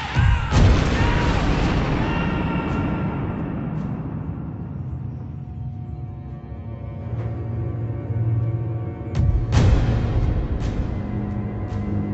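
A German main gun of WWII artillery fires with a heavy boom up front, its roar decaying over several seconds, then a second sharp blast follows later amid low rumbling.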